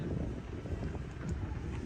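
Wind gusts across the Mekong riverbank at Pakse, a low, rumbling buffeting against the microphone that swells and dips continuously at moderate loudness, with no voices.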